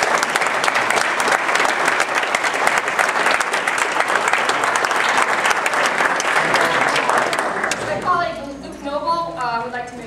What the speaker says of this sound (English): So I'd like to ask us to give us Angela a round of applause